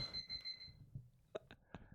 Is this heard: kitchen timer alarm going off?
yes